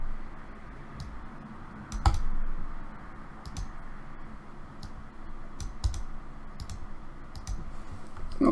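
A computer mouse gives scattered sharp clicks while a circuit is built in Multisim, crisp and close over a faint room hiss, in irregular single and double clicks with no talking.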